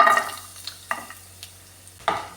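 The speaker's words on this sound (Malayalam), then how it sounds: "ഈ പാനിലേക്ക് ആവശ്യത്തിനുള്ള എണ്ണ ഒഴിച്ചു കൊടുക്കാം വെളുത്തുള്ളി ഇട്ട് കൊടുക്കാമേ" Garlic dropped into hot oil in a pan sizzles softly, broken by a few sharp scraping strokes as it is stirred, close and without voices.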